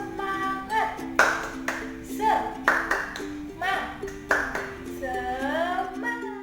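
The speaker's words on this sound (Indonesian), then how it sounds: "Tepuk semangat. Coba ulangi sekali lagi." Classroom of primary school pupils doing a rhythmic spirit clap, sharp hand claps in quick patterned bursts alternating with voices chanting, close and lively.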